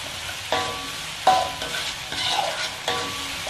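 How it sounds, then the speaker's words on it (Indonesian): Chicken being stir-fried in spice paste for tongseng sizzles steadily in a pan, broken by several clattering stirs and scrapes every second or so, close and fairly loud with no talking. "Sekarang kita tongseng bumbu untuk santannya ya. Ini campuri ayam"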